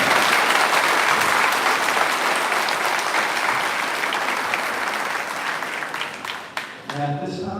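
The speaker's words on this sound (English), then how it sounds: "Can I get one more round of applause for all of us?" Sustained graduation applause from a large high school crowd, heavy clapping that slowly fades at the end as a voice starts to speak.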